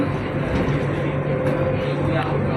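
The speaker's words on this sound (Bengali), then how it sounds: "আমরা মেট্রো ট্রেনে উঠে দাঁড়িয়েছি" Inside a moving Kuala Lumpur metro train: a steady, loud, dense rumble of the carriage on the rails, with faint talk mixed in throughout.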